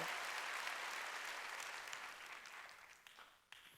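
A church congregation applauding during a Sunday worship service, a dense wash of clapping that fades gradually over several seconds, with a few isolated claps near the end.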